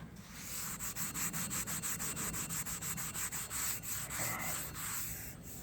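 A Scotch-Brite pad is scrubbed back and forth over cold rolled steel parts in a rapid, even, rhythmic rubbing, close and fairly loud, with no one talking.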